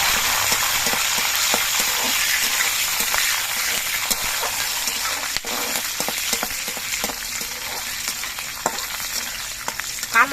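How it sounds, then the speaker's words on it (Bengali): Steady sizzling of cumin and green chillies frying in a hot pan, with scattered pops and small clicks of stirring throughout. "জিরা কাঁচা লঙ্কাটা ভাজা হয়ে যাওয়ার পর"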